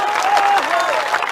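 A crowd at an outdoor political rally in Bakhri, Begusarai, Bihar claps in a dense, continuous burst of applause, and a voice carries over the top of it.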